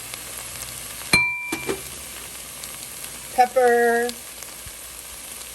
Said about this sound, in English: Once those are getting a little sauteed and softened up